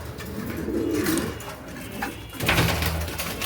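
An Andalusian pigeon for sale at a pigeon market coos in low, rolling bursts, close and fairly loud against background noise.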